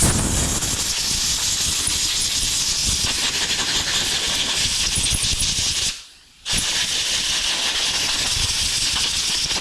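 Compressed air blows dust off a Troy-Bilt push mower carburetor, a loud, steady close-up hiss that stops briefly near the end and then starts again, with no voices.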